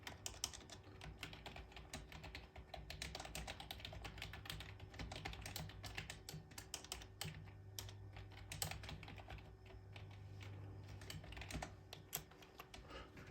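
Steady, continuous typing on a computer keyboard while entering an aircraft airworthiness check log, the key clicks dense and close over a low steady hum.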